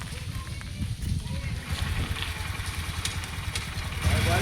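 A motorcycle engine idles and runs close by with a low, steady rumble that swells slightly toward the end as it is turned around, while people talk over it.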